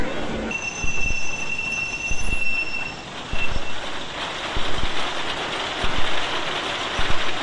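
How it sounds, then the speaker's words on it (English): A wooden roller coaster's lift chain at Geauga Lake hauls Gerstlauer trains, a rumbling mechanical roll with rhythmic clanks roughly every second and a thin high squeal early on, steady and fairly close. "like most wooden coasters, the lift chain sound is very unique to it, and with the Gerstlauer trains, it just made it that much more unique"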